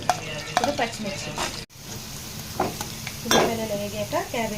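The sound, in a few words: green chillies frying and being stirred in oil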